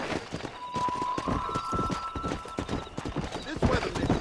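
A horse gallops in the Western game Red Dead Redemption, with a quick, rhythmic hoofbeat clip-clop running throughout. A voice speaks over the hoofbeats, and a sustained tone rises briefly in the middle.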